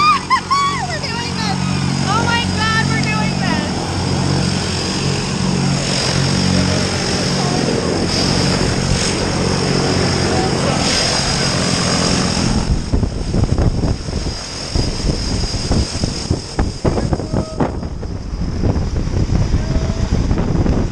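A skydiving airplane drones loudly, its engine and propeller humming steadily for about twelve seconds. Then heavy, buffeting wind noise takes over, likely as the door opens before the jump.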